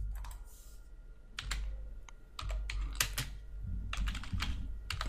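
Typing on a computer keyboard during a Git command-line session: scattered clusters of crisp key clicks with short pauses between bursts, close and clear, and no talking.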